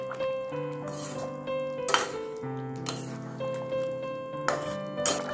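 Dahi aloo curry gets mixed in a pot after a handful of chopped coriander goes in, with repeated clinks and scrapes of a metal spoon against the pot in a loose rhythm and no talking.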